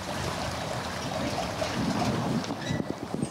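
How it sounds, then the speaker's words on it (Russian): A turbid, stinking stream of sewage rushes through a street ditch like a mountain river, a steady broadband roar of churning water with wind buffeting the microphone and no voices. "Этот звук напоминает шум от бурной горной реки, но, увы, это мутный и зловонный поток канализационной жижи"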